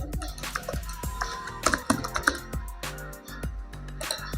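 Username keyed in on a computer keyboard, a quick irregular run of crisp, close key clicks with short pauses, clustering densely in the middle before slowing.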